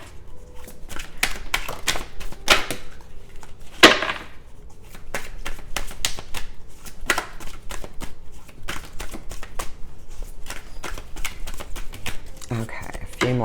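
Tarot cards being shuffled close by: a long run of crisp riffling clicks and slaps in uneven bursts, with one sharper louder snap partway through.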